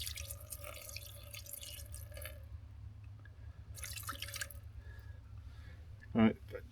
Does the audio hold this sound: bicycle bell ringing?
no